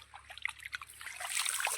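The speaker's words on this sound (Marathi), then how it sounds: "बरंच लांबून पाणी आता पाटानं." Irrigation water trickling and dribbling along an earthen field channel on a wheat farm, a soft close burble that swells slightly toward the end.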